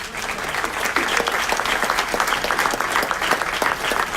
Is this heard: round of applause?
yes